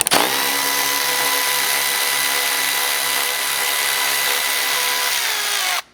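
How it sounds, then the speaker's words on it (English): A power tool with a 12mm socket driving out roof rack bolts on a Lexus GX or Land Cruiser 250, a loud, steady, close whirring that holds for about five seconds and then cuts off abruptly, with no speech. "remove 2 bolts here with your 12mm socket"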